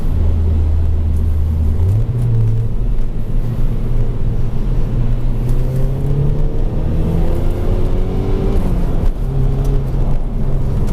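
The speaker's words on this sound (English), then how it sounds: "But the engine does pull quite nice. It's a very smooth linear powertrain." A 2002–2008 Opel Vectra C with a 2-litre engine accelerates on a test drive, a smooth rising engine drone climbing through the gears over constant road and cabin rumble.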